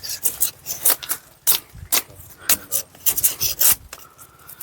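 Sugarcane stalk infected with red rot scraped with a blade, repeated harsh rasping strokes in a quick irregular rhythm, close and loud, with no voices.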